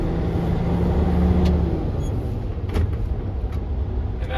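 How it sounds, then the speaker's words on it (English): A Class A truck's diesel engine rumbles steadily up close during a double-clutch gear shift, with a low continuous drone, a slight dip midway and a few faint clicks and knocks from the cab. "we're going to clutch, neutral, off the clutch, on the clutch, and into my next gear, the higher gear."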